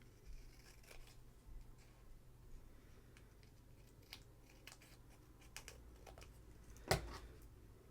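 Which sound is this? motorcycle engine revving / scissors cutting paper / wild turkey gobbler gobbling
scissors cutting paper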